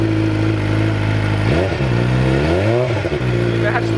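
A motorcycle engine idles steadily and close by, its revs rising and falling in a couple of swells midway before settling back, with people talking over it throughout.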